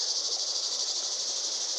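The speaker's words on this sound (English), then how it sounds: "You hear them cicadas?" Cicadas beside a creek in Sedona buzz in a continuous, high, shrill drone that pulses faintly and fills the air throughout.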